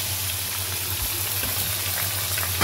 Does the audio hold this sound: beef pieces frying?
yes